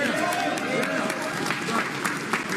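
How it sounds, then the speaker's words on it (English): A live-stream audience bursts into a steady wash of applause and clapping that holds at an even level throughout, with no clear speech standing out. "we got a fucking applause break, too"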